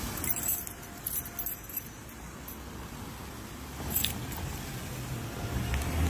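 Keys jangle at a pop-up shop door as it opens, light metallic rattles in bursts over steady street noise with passing traffic, fairly quiet and close.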